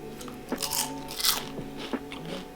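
Crisp crunches of someone biting into homemade kale chips, several close, loud bites in quick succession with crackly texture between them, no talking.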